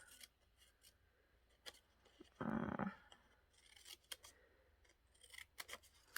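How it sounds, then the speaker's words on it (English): Scissors gently curling paper flower petals, a short close scraping rasp of blade drawn along paper lasting under a second, alone amid quiet room noise and faint small taps. "if you take your scissors"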